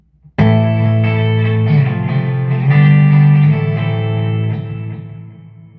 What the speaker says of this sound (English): When I give it back some pre-gain,